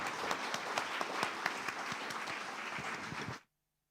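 Audience applause at a panel discussion on democracy and totalitarianism, sustained crowd clapping with crisp individual claps standing out, holding steady for over three seconds before cutting off abruptly into silence.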